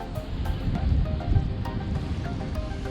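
Wind gusts at Roatan in Honduras' Bay Islands buffet the microphone in a steady rough rumble, with faint rustling and no voices.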